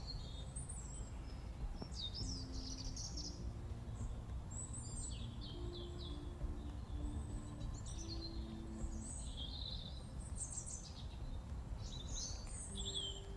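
Birds chirp and sing high and bright across an outdoor setting during a walk, several calls overlapping steadily over a low continuous background rumble, with no talking.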